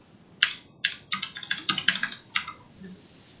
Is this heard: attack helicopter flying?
no